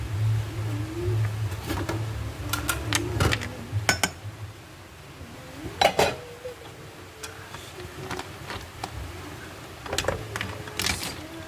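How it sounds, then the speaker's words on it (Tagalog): Plates being fetched and handled in a home kitchen while a bongkaliw soup is served; repeated close clinks and clatters of dishware, irregular and crisp, over a low steady background hum. "Si Didi may kukuha ng mga plato."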